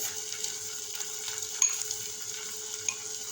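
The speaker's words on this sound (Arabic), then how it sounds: "تشويحة الكزبرة مع الفلفل والثوم هتدي طعم جميل للبطاطس" Chopped green coriander sautéed with peppers and garlic in a pan gives a soft, steady sizzle with a few light stirring scrapes and clicks, quiet and close, with no talking.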